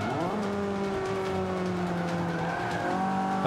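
An older car in Forza Motorsport 5 on Xbox One revs loudly, its engine whine climbing and dropping through the gears while tires squeal through a fast corner.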